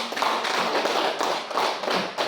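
A classroom of children claps hands together in a quick, steady run of sharp claps lasting a couple of seconds, close and lively with no speech.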